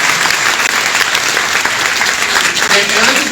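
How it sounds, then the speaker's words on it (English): An audience at a town hall meeting applauding loudly and steadily, a dense wash of clapping that holds throughout. "let's give him another big round of applause."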